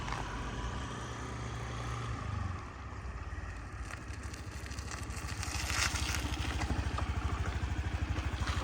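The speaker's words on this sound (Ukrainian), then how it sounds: "Він, до речі, працює настільки тихо, от мені подобається робота 110-ї діо" A fuel-injected Honda Dio 110 scooter (JF31) idles quietly with a low, even engine drone that briefly shifts, then grows slightly louder and rougher toward the end.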